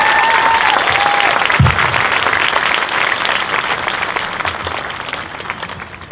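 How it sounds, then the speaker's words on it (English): Audience at an eighth grade graduation ceremony at Wantagh Middle School applauds Emily, with steady, dense clapping throughout that tapers slightly toward the end, plus a brief whistle near the start. "How about one big round of applause again for Emily?"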